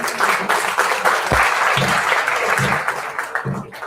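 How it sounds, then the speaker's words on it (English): Loud, continuous applause from the audience at a university orientation program as a guest is called to the stage, thick overlapping clapping with a few low thumps, easing slightly near the end. "Please have a round of applause for Mr. Sachin Pandey."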